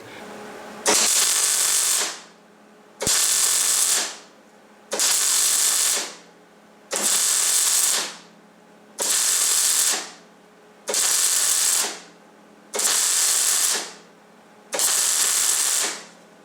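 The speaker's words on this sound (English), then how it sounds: "I'm spot welding" Spot welding on a steel wheel being widened, on high current: eight separate crackling bursts of roughly one second each, evenly spaced about two seconds apart, loud and close with short quiet gaps between, no talk.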